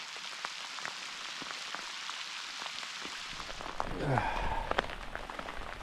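Heavy rain pours down over a lake on an overnight fly fishing trip, a steady loud hiss of drops throughout with a brief voice and a rustling swell near the end.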